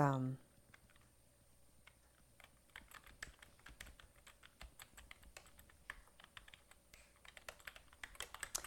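Rapid, uneven clicking of keys on a computer keyboard, close and fairly quiet, continuing steadily throughout.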